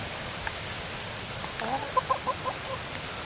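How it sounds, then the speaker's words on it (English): A hen gives a short run of sharp, rhythmic clucks, about five in quick succession, fairly close against a quiet outdoor background. "I mean, what a bossy little hen."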